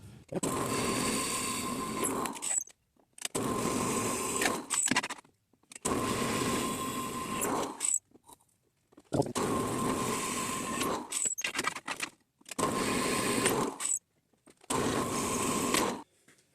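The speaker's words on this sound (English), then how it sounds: "And so now I'm ready to drill those holes." Electric drill boring holes through metal for farm gate hinges, six long bursts of steady whirring roughly two seconds each, separated by short pauses, close and loud.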